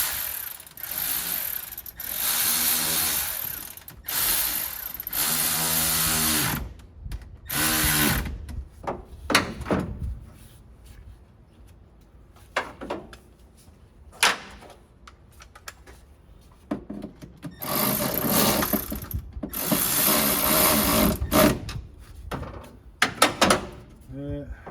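Ratchet and hand tools tightening bolts during an LS engine swap on a Squarebody truck: bursts of rapid clicking and whirring, some long and some short, separated by quieter gaps and close to the microphone.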